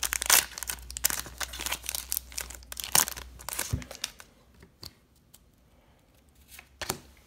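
A Pokémon TCG Ultra Prism booster pack wrapper being torn open and handled, with loud crinkling and ripping foil bursts up close, followed by quieter rustles and a final crinkle.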